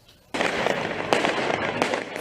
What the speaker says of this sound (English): Fireworks turned into weapons as protesters launched them at riot police and buildings across France.